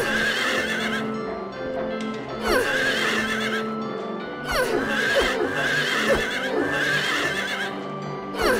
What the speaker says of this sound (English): horse is moving.